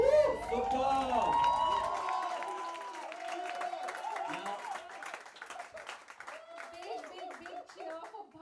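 Students applaud and cheer at a song promotion event, starting as a burst of claps and shouts that thins into scattered clapping and chatter over several seconds.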